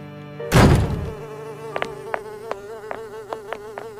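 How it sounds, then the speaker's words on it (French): A fly buzzes close up with a sharp rising hum at first, then a steady drone broken by repeated short ticks as it bumps about, with no talk. "Oh, une mouche."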